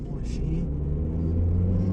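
Tuned Saipa Tiba car engine idling in a steady, low, close rumble after starting, with a brief voice over it early on.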